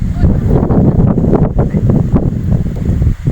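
Cold, dry wind gusts steadily across the microphone at a fishing spot where small fish are being cast-netted, a loud, continuous rumbling buffet that lasts the whole moment.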